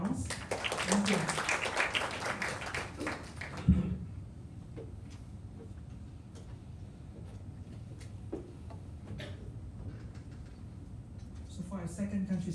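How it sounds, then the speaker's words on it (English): An audience claps for a speaker at a case presentation session: a few seconds of fairly close applause that cuts off, followed by quieter stretches with scattered ticks and a voice talking. "Shall we give Ed a big round of applause?"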